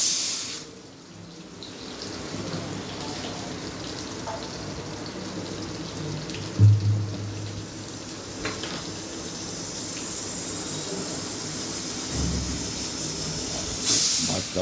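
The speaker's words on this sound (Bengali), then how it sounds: "এখানে আলুটা সেদ্ধ করতে দিয়েছে প্রেসার কুকারে।" Potatoes boiling in a pressure cooker send out a continuous steam hiss at moderate loudness, with a couple of brief louder bumps partway through.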